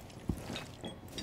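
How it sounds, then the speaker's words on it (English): Magazine reload in Rainbow Six Siege, a quick run of close mechanical clicks and ratcheting metal clacks, faint and lasting just over a second. "Loading new mag."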